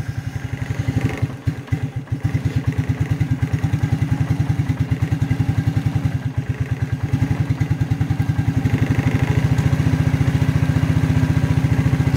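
A 1992 Suzuki Quadrunner 300 ATV engine runs steadily on choke after months of sitting, a loud, close, rapid thumping idle with a brief stumble early on, then smoothing and swelling slightly toward the end.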